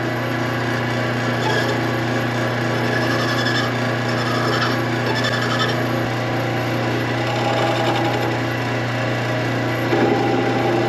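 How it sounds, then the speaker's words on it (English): A hand file rasps steadily across the reeded edge of a silver coin, a continuous dense scraping with rhythmic strokes, close and loud over a constant mechanical hum. "We're going to file the reeded edge off this coin."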